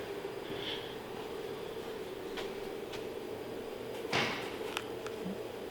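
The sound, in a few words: doors and cupboards opening and closing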